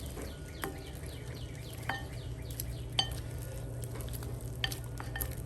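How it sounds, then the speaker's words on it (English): Hot wings cooked on a Blackstone griddle being tossed in Kentucky-Tennessee sauce with a spoon, sharp repeated clinks of spoon against a bowl over a low steady sizzle. "Take our spoon and give it a little toss."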